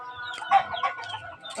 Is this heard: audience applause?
no